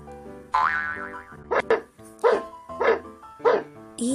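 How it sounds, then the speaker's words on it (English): A dog barks in a run of four or five short, evenly spaced yelps, preceded by a springy boing-like tone, all loud and close with no other sound behind. "D is for dog"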